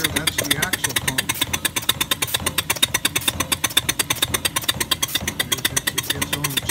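A model Allen American steam locomotive runs on compressed air, its rapid, even exhaust chuffs beating in a steady fast rhythm close by, with a voice heard talking over it.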